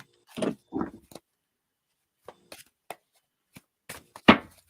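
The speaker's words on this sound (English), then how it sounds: "so let me just shuffle quickly" Tarot cards shuffled quickly by hand during a reading, giving a few short papery riffles and taps in a quiet room, with two louder bursts at the start and end and faint scattered clicks between.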